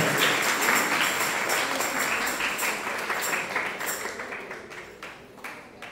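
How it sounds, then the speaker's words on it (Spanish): A church congregation applauds right after a baptism during Holy Saturday Mass, a dense wash of clapping that starts full and gradually thins and fades, with a few scattered claps at the end. "Aplauso para Santiago."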